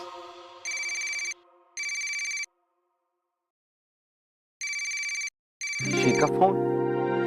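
Telephone ringing in clear repeated bursts, four rings with pauses between them, loud and close, followed by a voice answering.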